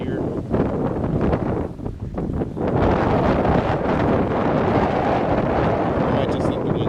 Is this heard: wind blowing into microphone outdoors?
yes